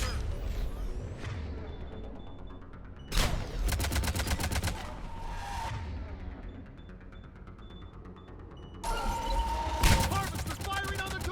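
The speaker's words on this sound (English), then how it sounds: "Harvester firing on the Turians!" A Harvester opens fire on Turian forces in the game Mass Effect Legendary Edition: loud, crackling bursts of rapid gunfire arrive in three separate volleys, with a rumbling, creaking battle noise continuing between them.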